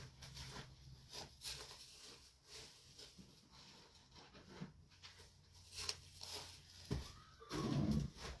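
A horse at a farm during feeding chores neighs near the end, a loud close whinny following quieter stable rustles and shuffling, with no talking.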